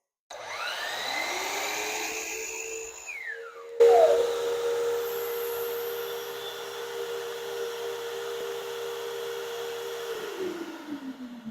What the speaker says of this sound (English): the vacuum will run for an additional several seconds to clear out any remaining dust that might be in the hose